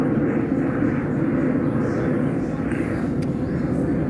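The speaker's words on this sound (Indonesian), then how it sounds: "ada pesawat lewat" A fixed-wing airplane passing overhead gives a steady, broad engine roar that fills the whole stretch, with faint voices in the background.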